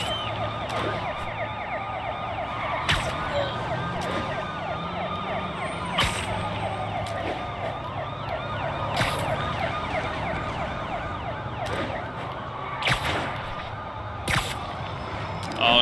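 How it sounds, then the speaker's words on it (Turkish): Police car siren wailing in Marvel's Spider-Man Remastered, a steady rising and falling tone over traffic noise with repeated sharp clicks, moderately loud throughout. "Oo, önde bir polis arabası daha"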